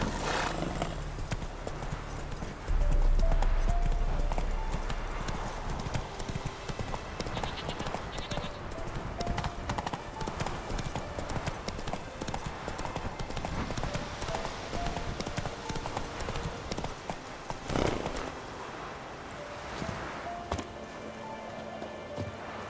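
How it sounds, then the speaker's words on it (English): Trotting hooves of the horse Roach in The Witcher 3 video game, a steady clip-clop rhythm that carries through the whole stretch, with a brief whinny and game ambience around it. "Whoa there, Roach. Take it easy"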